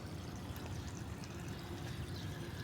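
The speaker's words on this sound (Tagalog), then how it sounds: "Tuloy-tuloy lang agos ng tubig, hinahayaan lang nila." Steady, continuous rush of water flowing from a broken pipe, even and unbroken throughout, heard alone at moderate distance.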